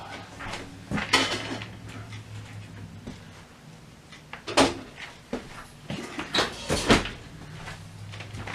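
A hot cast-iron-style Dutch oven at 450 degrees and its lid are handled with full oven mitts, giving a series of sharp metallic knocks and clanks, several clustered bursts around the middle and end, fairly close with no talk.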